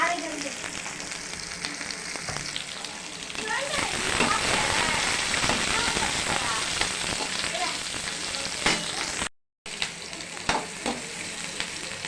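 Tomatoes sautéing for Tamil-style tomato kootu, a steady loud sizzle and crackle in the pan with stirring scrapes throughout, briefly cutting out near the end before resuming.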